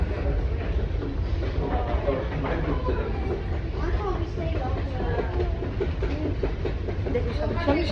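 A London Underground Bakerloo line train runs with a constant loud rumble and rattling clatter, while people talk over the noise.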